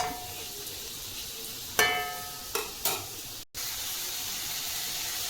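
Onion-egg masala with chilli powder sautéing in a pan for egg kothu chapati, a continuous soft sizzle broken by a few sharp spatula scrapes and clanks against the metal.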